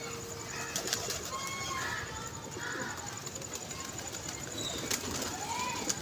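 Pigeons at a rooftop pigeon club, several birds cooing softly with a few short bursts of wing flapping, moderately near against a steady outdoor background.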